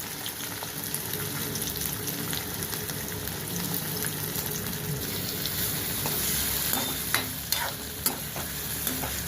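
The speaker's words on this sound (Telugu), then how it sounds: "ఉల్లిపాయలు కొంచెం వేగాలి" Chopped onions and green chillies fry in oil in a kadai, a loud continuous sizzle and crackle with stirring, and a few sharp utensil clicks near the end.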